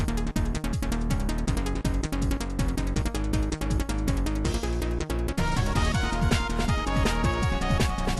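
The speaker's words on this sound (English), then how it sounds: "Meanwhile, Tengu Man stage on the Sega Saturn sounds like this." Tengu Man stage music from Mega Man 8 in its Sega Saturn version, a dense, continuous game soundtrack with driving rhythmic percussion and layered melodic synths, loud and steady throughout with no talking.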